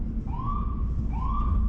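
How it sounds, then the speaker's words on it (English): An ambulance siren wails on a street under the elevated train line in Kensington, Philadelphia: two rising and falling sweeps, fairly loud over steady traffic rumble. "We have an ambulance right here."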